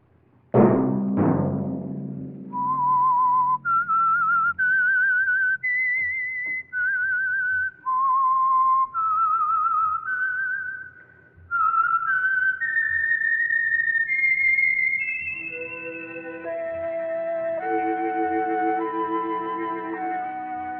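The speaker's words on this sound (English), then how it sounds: "Let that whistle be your signal for the Signal Oil program, The Whistler" A clear, melodic whistled theme tune for The Whistler radio program, sponsored by Signal Oil, opens with a couple of sharp attacks, then a steady sequence of sustained whistled notes rising and falling, ending in a fuller tonal phrase.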